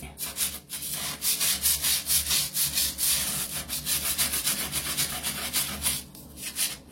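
A grout brush scrubs dirty tile grout on a floor, with steady, rapid back-and-forth rasping strokes close to the mic and no talking.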